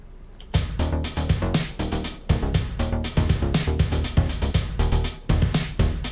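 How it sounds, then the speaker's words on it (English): Open hi-hat cymbal in a programmed drum loop built in Soundtrap, ringing in a steady repeating pattern with kick and other hits, a close, clean beat with no talking. "So that's a different kind of cymbal sound."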